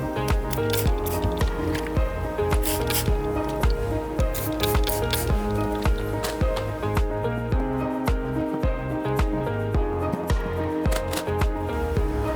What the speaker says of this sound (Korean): 다시 한번 스퀴징해서 마무리를 하겠습니다.